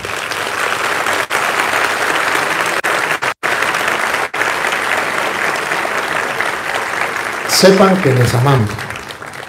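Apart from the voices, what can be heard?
congregation applauding in church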